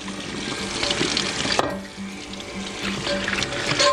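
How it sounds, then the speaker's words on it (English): Hot water runs steadily from a tap to rinse a metal piece cleaned of flash rust, a continuous splashing flow close by with a brief break partway through and no talking. "And we're going to use hot water."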